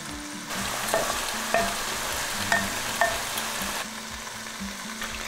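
Fungus and tofu stir-frying in a hot wok for a Buddha's Delight dish, a continuous sizzle with a few sharp scrapes and clinks of the spatula at irregular intervals, no talking.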